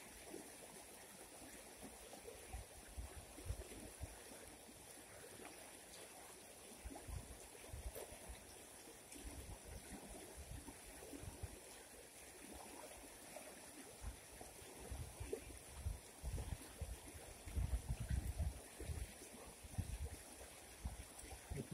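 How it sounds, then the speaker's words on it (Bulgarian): Water runs through a gold-washing sluice, washing light sand and gravel away in a soft, continuous outdoor stream with low rumbles and gusts, quiet and with no talk. "как лекия материал много бързо се промива от водата"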